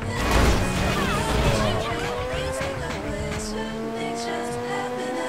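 A poorly handling car in GTA 5 with a loud engine burst at the start, then revving and sliding with wavering, squealing tire tones that fade into a steadier drone, and faint speech underneath.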